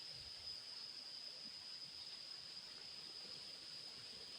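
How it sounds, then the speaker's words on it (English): Waterfall in Karura forest, a steady broad rush of falling water with a faint high hiss, continuous and even throughout with no voices. "So we have come to the waterfalls."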